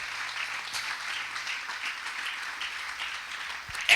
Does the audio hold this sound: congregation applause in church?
yes